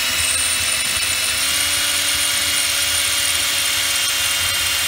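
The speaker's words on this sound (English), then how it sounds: "Drill into it. As you can see, when it starts spinning, you've usually got it." Power drill boring into the deck lid of a Ranger Z21 boat, a steady high-pitched whine running continuously at close range, with no talking.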